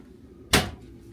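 One short wooden thud as a deep drawer slides shut in a Sun Princess cruise ship deluxe balcony cabin, close and brief over a faint room hum.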